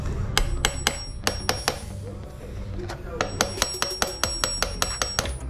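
Light metallic tapping on parts of a Nitto two-stroke generator that won't start, a quick run of sharp hammer taps, a short pause, then another steady series of ringing taps close up.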